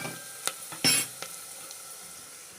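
Tomatoes dropped into a pan of frying brinjal and dry fish curry, giving a soft steady sizzle marked by a few sharp splashing hits and stirring clatters.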